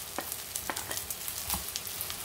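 Close, constant sizzling of light golden onions frying in a pan for masala dosa filling as mashed potatoes go in, with quick stirring scrapes and small pops over the hiss.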